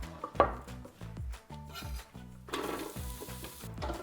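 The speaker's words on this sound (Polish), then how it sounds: "Cebula na rozgrzaną oliwę wlatuje do środka." Chopped onion hits hot olive oil, and a broad, crackling sizzle rises partway through and keeps going under background music with plucked, repeating notes.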